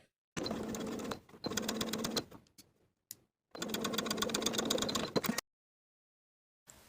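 A home sewing machine edge-stitches an elastic shorts waistband closed, running in two long steady bursts of rapid mechanical stitching with short stops and brief starts between them, close and clear.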